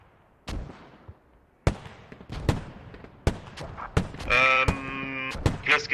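Mortar fire in a video game: a string of sharp, booming impacts at irregular intervals, some close together, with a brief ringing tone trailing one of the later blasts.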